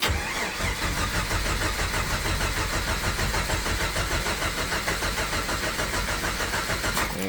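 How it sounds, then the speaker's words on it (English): A Jeep YJ's AMC 258 inline-six cranks and starts after an oil change, loud, close and continuous, with the engine churning steadily throughout and rising slightly at the end. "Let's see if she'll crank."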